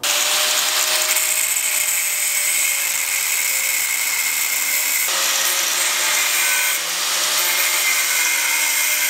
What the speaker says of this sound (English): So we will slice the welds right here and on the other side